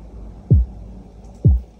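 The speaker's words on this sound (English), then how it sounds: "The second one, a bit hard kick." Two deep, punchy kick drum hits from a lofi track sample land about a second apart, each a hard thump with a quick downward pitch drop, heard alone.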